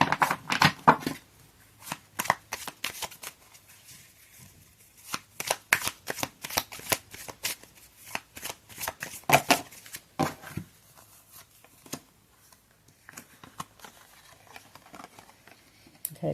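Tarot cards being shuffled by hand for a reading, with quick riffling bursts and soft slapping pats repeating in irregular rhythm, close and fairly quiet, tapering off toward the end.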